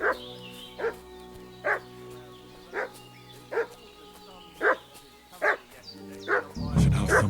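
A dog barks in the medieval game Kingdom Come: Deliverance II, single barks repeating at a steady rhythm about once a second, moderately near, over low background sound, with a louder noise at the end.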